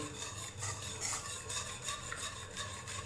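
Steady scraping and rubbing of a utensil stirring a vegan Thai chickpea custard dessert mixture in a frying pan, a continuous gritty stirring sound with soft rhythmic strokes, close and moderately quiet.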